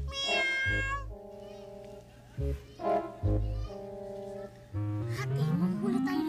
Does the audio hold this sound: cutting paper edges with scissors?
no